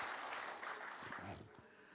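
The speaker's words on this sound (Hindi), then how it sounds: "जोरदार तालियों से एक बार फिर से स्वागत करिए।" Audience applause welcoming a politician at a televised conclave, a steady wash of clapping from a large hall crowd, fairly distant and even throughout.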